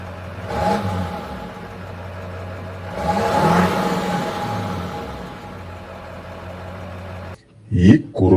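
A cartoon vehicle's engine revs up in surges as it drives off, a droning motor that rises twice before cutting away.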